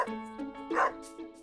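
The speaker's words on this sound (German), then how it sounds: "Siehst du den Hund hier?" A stray dog in the video game Stardew Valley gives a short series of bright, pitched barks and yips, close and clear, lasting only a moment.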